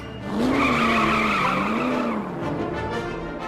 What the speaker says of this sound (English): He's doing donuts for us.